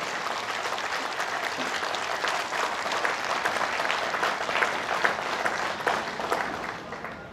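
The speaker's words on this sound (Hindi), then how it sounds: "आपकी तालियों की गड़गड़ाहट" Crowd applause at a public gathering in Meerut, a thick, sustained roar of many hands clapping that swells slightly midway and holds at a loud, even level.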